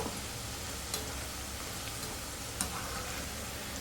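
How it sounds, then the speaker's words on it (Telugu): Jaggery gavvalu dough shells deep-fry in oil over a low flame, giving a steady, fairly quiet sizzle with a couple of brief sharper pops. "రెడీ చేసి పెట్టుకున్న గవ్వలు కొద్దిగా ఇందులోకి వేసి ఫ్రై చేసుకున్నాం"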